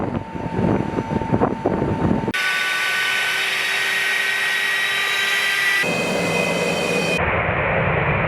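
A Sukhoi fighter jet's engine roars loudly and steadily with a high whine, the tone shifting abruptly between segments.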